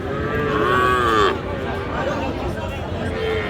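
A loud cow moo rings out close by at a cattle market, followed by fainter lowing amid a busy crowd murmur of many voices.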